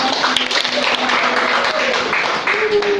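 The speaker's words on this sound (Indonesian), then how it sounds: "Beri tepuk tangan teman-teman." Audience applause at a national seminar on preserving the Indonesian language, a steady dense wash of clapping lasting about three seconds with faint voices mixed in.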